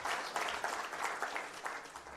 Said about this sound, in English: Another round of applause for our presenter.